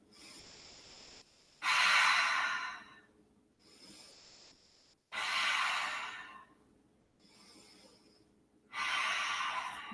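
Loud, deliberate breaths in a yoga class during a warrior 1 pose, three long airy exhalations spaced a few seconds apart with quieter inhales between, close to the microphone and with no talking.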